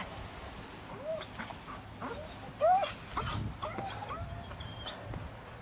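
A dog whimpers and whines in short, high, breathy bursts with a few soft yips, close by, amid quiet room background and faint voices.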